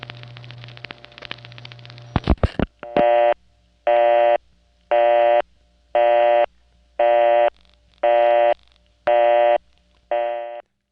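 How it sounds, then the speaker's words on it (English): A Centrex tandem telephone exchange returns a busy signal: after a short stretch of line noise and clicks, loud, even on-off tone bursts repeat about eight times at a steady rhythm, close and clear. "The Centrex tandem that gives you a busy signal instead of a recording."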